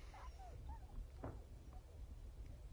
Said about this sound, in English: There's a dog dying on my spikes